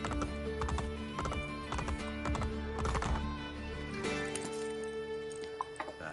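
Rapid hoofbeats of horses in the video game Assassin's Creed Brotherhood clatter in a steady galloping rhythm, with a horse whinny and a continuous droning background.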